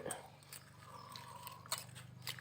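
Someone chews small freshwater fish, faint crunchy bites and soft mastication sounds coming in irregular bursts beneath quiet nearby talk.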